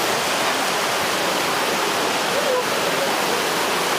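Rushing water of a river stream pouring over the Barakanya waterfall, a loud, dense, continuous roar close by with no break or talk.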